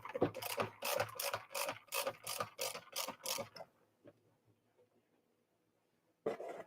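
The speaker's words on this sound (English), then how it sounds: "I just try to get these screws in as much as I can for now" Screws driven into a Centipede arcade cabinet give a run of quick, loud, regular ratcheting clicks for about three and a half seconds, then near silence with a faint tick, before the clicking resumes at the end.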